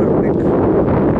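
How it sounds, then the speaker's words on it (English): Wind buffeting a microphone outdoors on the Key West, Florida waterfront, a brief loud low rumble that fills the moment. "It's a little bit windy here"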